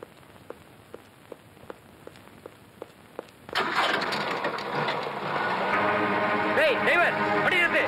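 A car engine catches and roars to life after being pushed, following a series of faint regular clicks, then a loud sustained running noise fills the rest; voices are heard.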